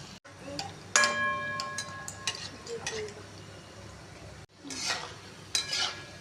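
Gulab jamun frying in oil over a low flame until golden brown: a quiet sizzle under intermittent metal clinks and scraping stirs near the pan.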